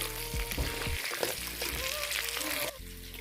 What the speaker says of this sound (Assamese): আৰু এইপিনে মাছখিনি ফ্ৰাই কৰি আছোঁ